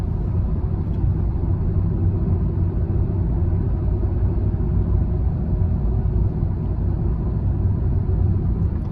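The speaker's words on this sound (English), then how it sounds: "So we can see 30 mile sign is coming. So I need to ease off the gas and drop to third gear now." A car's engine and road rumble fill the cabin as it drives a West Didsbury driving-test route, a steady low drone with no clear change in pitch and no talk.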